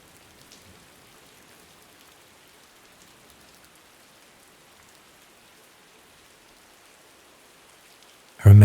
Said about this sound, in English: I remember the rain that night,